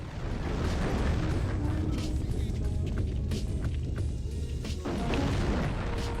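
Repeated booming explosions from the video game The Thing form a dense, continuous rumble with sharp bursts layered through it, loud and close throughout.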